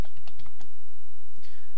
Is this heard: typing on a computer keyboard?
yes